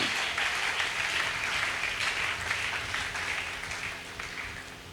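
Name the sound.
congregation applauding in church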